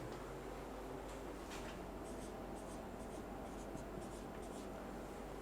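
Numbers being written by hand, likely pen or chalk, with faint scratchy strokes and short taps scattered through the clip, set against steady background hiss and no talking.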